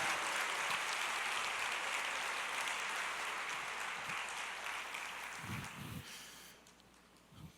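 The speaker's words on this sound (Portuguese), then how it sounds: "Aplauda com o Senhor, com júbilo, em nome de Jesus" A church congregation applauds in a steady, dense wash of clapping that gradually thins and fades toward the end, with a few louder low thumps near the close.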